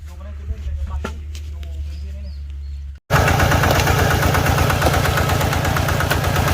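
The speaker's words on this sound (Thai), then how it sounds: "เริ่มสูบแล้วครับพี่น้องครับต่อพญานาคครับ" Engine-driven water pump starts pumping out a pond, a loud steady close engine drone with a rapid knocking pulse that kicks in abruptly after a stretch of quieter engine idle and someone talking.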